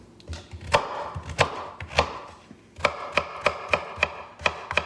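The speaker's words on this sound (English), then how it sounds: "Chopping up these sweet potatoes real quick." Sweet potatoes being chopped on a cutting board with a knife, a steady series of sharp, close knife strikes, irregular at first and then evenly spaced, with no talking.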